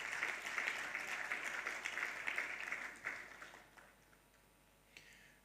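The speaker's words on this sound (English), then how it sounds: "Another round of applause to them" A conference audience claps for a panel, a steady wash of applause for about three seconds before thinning out to a few scattered claps and near quiet.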